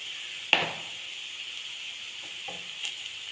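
Onions sauté in butter and oil for Mumbai-style pav bhaji, giving a steady, close sizzle with a sharp clack of a spoon stirring the pan near the start and softer scrapes later.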